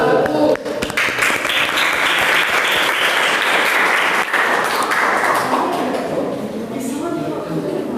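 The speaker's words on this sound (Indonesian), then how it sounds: "Aplaus untuk kelompok 1" A classroom audience claps for a student group that has just presented, in a steady, dense burst that runs the whole time and thins slightly toward the end.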